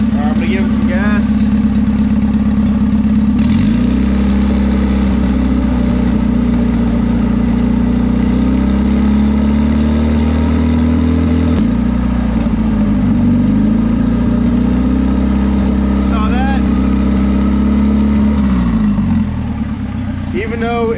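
A turbocharged Honda engine with a blown head gasket runs nearby with a steady, loud low drone, rising in a few throttle blips and settling back to idle, with someone talking over it.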